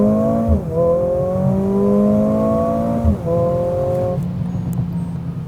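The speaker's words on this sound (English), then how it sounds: "All right, do one more launch control for you guys here." A 2020 Mercedes CLA45 AMG launches hard under launch control, its engine note climbing in loud, rising pulls interrupted by two quick gear-shift dips before settling to a steady, close roar.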